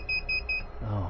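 A car wash machine's electronic controller beeps about five times in a steady rhythm against a noisy background, and a low voice or rumble follows.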